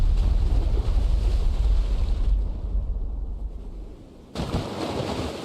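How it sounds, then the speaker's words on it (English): Ship propeller noise in the naval video game Destroyer: U-boat Hunter, a loud, heavy low-frequency churning rumble with windy, rushing texture that dips briefly before returning, no speech over it. "Very strong propeller noise."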